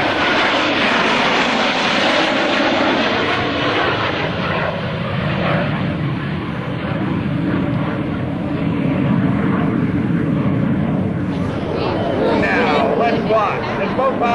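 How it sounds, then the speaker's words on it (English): US Navy Blue Angels jets pass at low altitude at a 2003 Rhode Island Air National Guard open house air show, producing a continuous loud roar of jet engines that swells and shifts throughout. "Blue Angels 5 and 6 are approaching the flight line in a line of rest formation at 400 miles per hour."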